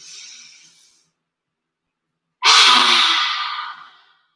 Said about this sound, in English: Inhale through the nose. One last time. Inhale through the nose.